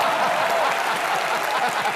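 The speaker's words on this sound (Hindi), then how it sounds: "मेरे लिए ज्यादा तालियां।" A studio audience at a Hindi TV comedy show applauds after a cooking contest, steady, lively clapping throughout without any speech over it.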